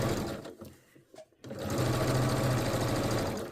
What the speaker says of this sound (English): I'm just going to sew a 1/4 inch seam allowance all the way around the pocket